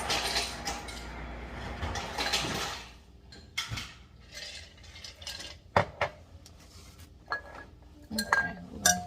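Ice clinks into a glass in a home kitchen, with a brief rattling pour followed by scattered, sharp individual clinks and knocks, fairly close and moderately loud, with quiet gaps between them.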